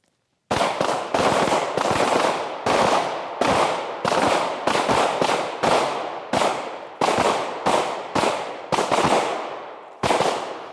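Handgun shots crack out one after another at a shooting range as shooters move, a dozen or so sharp, loud reports in an irregular rhythm with short ringing decays.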